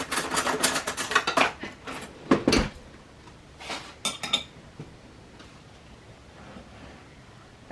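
Someone reaches for a knife in a kitchen while making carrot cake: a cluster of metallic clinks and clatter of cutlery and dishes, fairly close, followed by softer scattered taps, with no voices.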